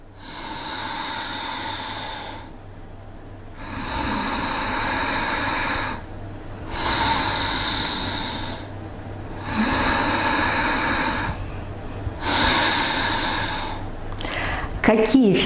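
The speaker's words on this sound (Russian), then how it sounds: "С санскрита дыхание уджая переводится как дыхание победителя." Ujjayi breathing is shown as a slow series of long, loud, hissing breaths, each several seconds long, separated by short quiet pauses, with no talking.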